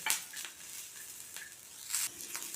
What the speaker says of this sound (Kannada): ಇವಾಗ ಅದೇ ತವಕ್ಕೆ ನಾನಿಲ್ಲಿ ಈರುಳ್ಳಿ ಮತ್ತು ಬೆಳ್ಳುಳ್ಳಿ ಸೇರಿಸ್ಕೊಳ್ತಾ ಇದ್ದೀನಿ